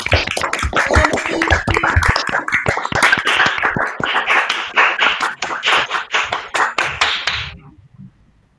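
Applause for graduate Milagros after her thesis defense: a dense, steady run of hand claps from a small group, close and loud, carrying on for several seconds before tapering off at the end.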